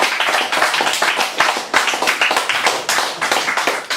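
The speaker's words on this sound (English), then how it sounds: "More applause, please" A small audience at a modern poetry evening claps after a reading, close and fairly loud individual claps in an uneven, pulsing rhythm that rises and dips in waves.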